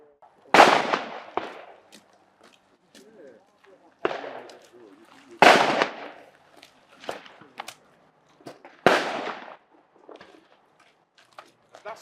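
Shotgun fire at a sporting clays ground: three loud, sharp blasts spaced a few seconds apart, each with a ringing outdoor tail, plus softer pops and clicks in between.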